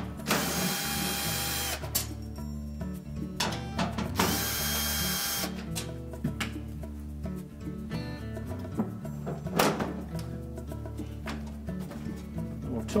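Short screws are driven out of the bottom of a Whirlpool washer's metal back panel with a power driver, giving bursts of whirring and ratcheting amid clanking mechanical noises, close and moderately loud.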